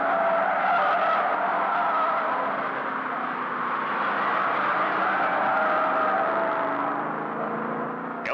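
Race cars at the 1970 Bathurst 500 roar past in a sustained, loud engine drone with a shifting whine, continuous and unbroken, with no one speaking.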